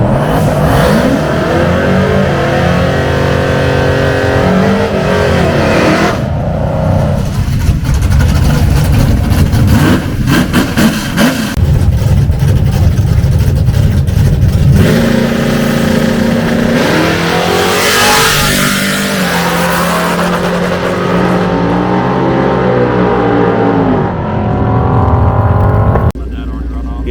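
Race car engine revving hard to about 9,500 RPM while stuck in first gear, loud and close, climbing and falling in sustained high-rev pulls with a cut-off near the end; a person talks over part of it.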